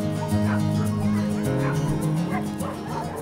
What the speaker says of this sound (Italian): Questi sono i miei cagnolini un po' più grandi.